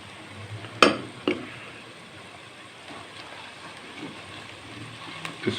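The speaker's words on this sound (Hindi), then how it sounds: "अब इसमें हम अदरक लहसुन का पेस्ट डालेंगे 1 बड़ा चम्मच टेबल स्पून" Ginger garlic paste sizzles faintly in a pan as it is stirred for chicken pulao, a soft steady frying hiss with a few sharp clacks of a spoon against the pan.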